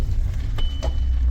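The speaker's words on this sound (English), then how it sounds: "Engine sounds normal, just the idle is not quite normal." A VW Golf V Plus 1.4 TSI engine idles after repair, running slightly unevenly following two years unused; a steady low rumble close by, with a couple of brief clicks or knocks over the top.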